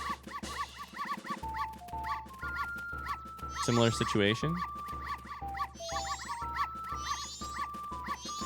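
Dogs in Clock Town in Zelda: Majora's Mask give quick repeated yips and barks over a steady looping game melody, while a person talks throughout.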